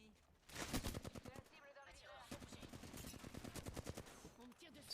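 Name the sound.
gunfire in a multiplayer video game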